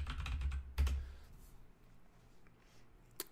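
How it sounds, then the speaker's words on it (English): Quick bursts of computer keyboard typing, close and clear, followed by quiet and a single final keystroke. "So I'm typing JCPenney's and now it's loading"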